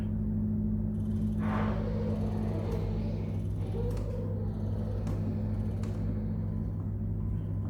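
Spectra S1 Plus electric breast pump running, a steady low motor hum with creaking, whooshing pump strokes and intermittent mechanical clicks, close by and alone.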